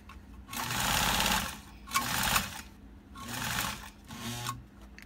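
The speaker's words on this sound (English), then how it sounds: "You can see how it sews through 9 layers, no problem." A heavy duty sewing machine drives through a thick seam of nine layers in four loud, rapid mechanical bursts, each a fast chattering run of needle strikes separated by short pauses.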